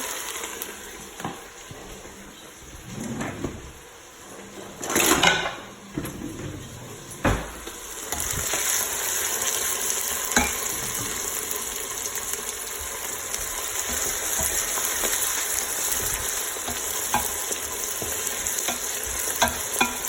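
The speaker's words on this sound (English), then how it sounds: "I'm going to start toasting a few things off now. Garlic's in, heaps of olive oil." Garlic sizzling in plenty of olive oil in a pan for a beef ragu, a steady frying hiss that grows fuller partway through, punctuated by clinks and stirring scrapes, with no talking.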